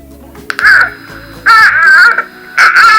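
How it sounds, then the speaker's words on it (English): A whiny, wavering electronic cry from a Gen 6 Hybrid RealCare reborn baby doll held upside down sounds in three short bursts, close and loud, with low background noise between them. "And it's like a whingy cry."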